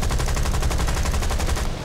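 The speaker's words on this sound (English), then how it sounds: "Oh, that was a nice strafe." In the video game War Thunder, an aircraft's machine guns rattle through a strafing run in a rapid, steady burst of evenly spaced shots, loud and continuous for about two seconds.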